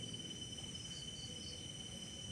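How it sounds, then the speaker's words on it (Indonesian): Crickets chirp in a constant high-pitched trill over a quiet, low background hum, with no voices. "suara jangkrik"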